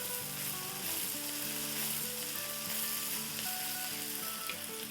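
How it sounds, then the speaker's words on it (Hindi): Crushed garlic, ginger and diced green chili sizzle in hot oil in a pan, a dense, steady frying hiss that stays loud and continuous from start to finish. "इसमें हम डाल देंगे 1 टेबलस्पून कुटा हुआ लहसुन और 1 टीस्पून अदरक। साथ ही डाल देंगे 1 हरी मिर्च जो कि डाइस कर ली है।"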